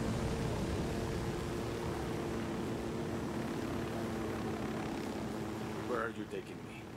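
Helicopter in the video game Ghost Recon: Wildlands, a steady droning rotor and engine hum throughout, with brief speech near the end.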